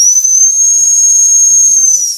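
Emergency survival whistle blown hard at very close range, one piercing, shrill, steady tone held for about two seconds with a breathy hiss, loud and alone.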